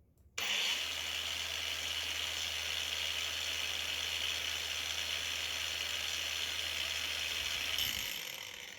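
A cordless brushless angle grinder spins up abruptly and holds its lowest speed setting as a steady, close, high whine with a low hum beneath, running alone for about seven seconds before spinning down.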